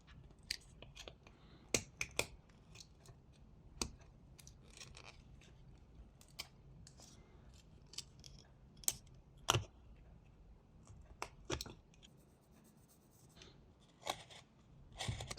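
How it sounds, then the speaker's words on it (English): A knife blade shaves small slices of wood while whittling a wooden sheep, giving sharp, scattered clicks and scrapes at an irregular pace against a quiet, close background. "First, cut the excess into small slices and then remove it like this using the tip of the blade"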